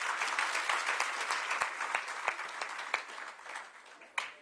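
Audience applause following a presentation at a South African Police Service gathering: dense, sustained clapping from a crowd that fades gradually, with a few sharper claps near the end.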